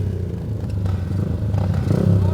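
Racing motorcycles rev on the starting grid before taking off, a steady loud engine drone that swells slightly toward the end, with no talk.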